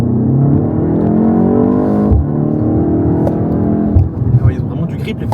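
A car being tire-tested on a race circuit in Slovenia, its engine droning steadily up close with a brief dip mid-way and rougher rumble near the end as it slides and regains grip, while people talk over it throughout.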